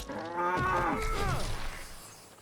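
A cow moos in RuneScape: Dragonwilds, one long drawn-out low call that rises and falls, close and loud, then fades out with no talking over it.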